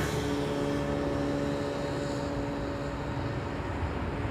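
Airliner at Amsterdam Schiphol Airport; a steady, loud engine roar with a low rumble and a humming drone, holding level throughout with no talking.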